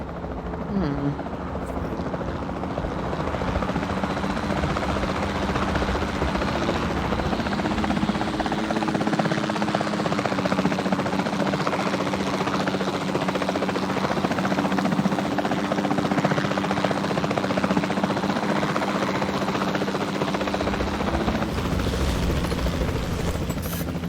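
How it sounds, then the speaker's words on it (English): A capture team helicopter in Jurassic World Evolution 2 flies with a constant loud rotor thrum and engine roar for the whole stretch, steady and close, with no break. "Then the sensible thing is to take a capture team helicopter."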